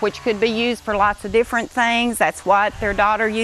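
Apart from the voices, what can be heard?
No everyday noises stand out.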